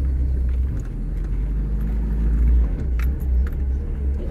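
A Fiat 124 engine pulls steadily in third gear, a close, continuous low rumble of light acceleration from inside the car with faint rattles, and no talk.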